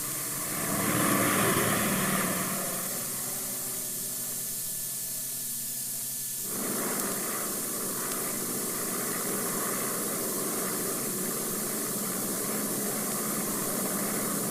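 A small homebuilt propeller plane flies with a steady droning engine and airscrew hiss, louder at first and then settling into an even, continuous hum that carries on without pause.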